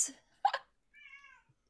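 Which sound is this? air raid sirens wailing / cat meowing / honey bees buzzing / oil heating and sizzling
cat meowing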